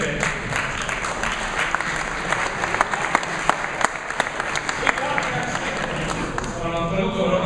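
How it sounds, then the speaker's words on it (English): An audience in a Messina conference hall claps in a sustained, dense round of applause at a zero-waste talk, with many overlapping hand claps that are fairly loud and continuous. "He needs a loud round of applause."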